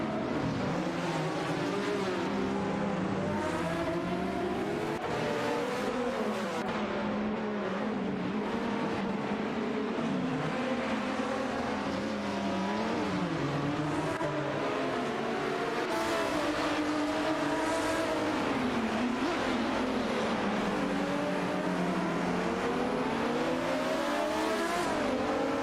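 Race cars in a simulated game race duel for position, with a URD-81 among them, their engines revving and shifting continuously and loudly throughout, rising and falling pitch as they accelerate, with occasional tire squeal and no voices.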